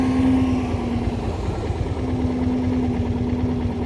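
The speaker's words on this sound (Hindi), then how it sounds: "इतनी सी कार है ना, आवाज़ देखिए उसकी कितनी ज़्यादा है।" A loud, steady engine drone with a low, constant hum holds throughout, close by, like a small car revving nearby.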